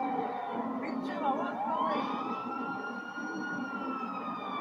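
A police car siren wails in GTA 5, a rising and falling electronic tone that settles into a sustained high pitch over game background noise, fairly distant and moderate in level.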